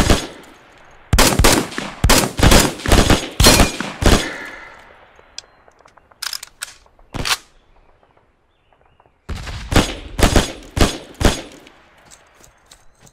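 Machine gun fire in the World War II shooter Hell Let Loose, loud sustained bursts of rapid shots, then a few scattered single reports, a pause, and another strong burst of automatic fire.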